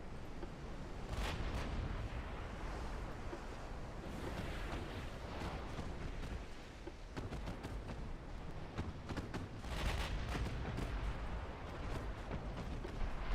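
Naval battle in the video game Ultimate Admiral Dreadnoughts, with gunfire and torpedoes: a continuous dense roar of booming guns and churning sea, swelling into heavier bursts near the start and again toward the end, with no voice.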